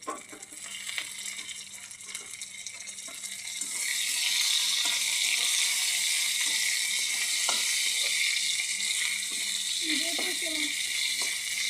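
Ginger and green chillies frying in a pan at home: a soft, intermittent sizzle with light clinks under talk, swelling into a louder, steady hiss partway through and staying close and continuous.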